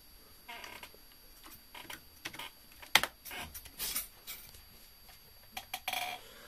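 Typing on a computer keyboard that came free with a swapped-in desktop PC, a run of irregular clicky keystrokes in close bursts with brief pauses, no voices.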